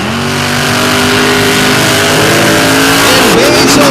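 An Indy Jamboree race car revs hard into a turn, its engine a loud, sustained roar with pitch rising and falling, joined near the end by a brief tire squeal.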